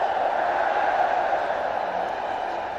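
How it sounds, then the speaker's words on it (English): Cricket crowd at a Mumbai Test match between India and West Indies, a steady broad roar of many distant voices holding at an even level throughout with no single sound standing out. "Mumbai crowd now starting to get behind the Indians."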